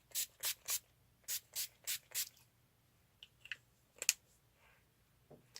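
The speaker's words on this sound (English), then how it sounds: "I am going to kind of apply setting spray, and I'm just using NYX Matte Finish" NYX Matte Finish setting spray misted in seven quick, sharp spritzes in a rapid rhythm, followed by a few faint clicks and soft handling sounds.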